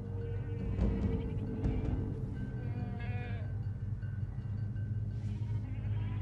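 Several goats bleat in short wavering calls against a low steady background hum, moderately near, with overlapping cries, in the video game Medal of Honor, set in Afghanistan.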